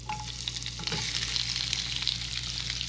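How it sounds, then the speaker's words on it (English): Onions sizzle and crackle steadily in a pan of butter and olive oil as they begin caramelizing, a dense, close, continuous hiss with brief stirring scrapes near the start and no talking. "I'm going to have you toss the onions in."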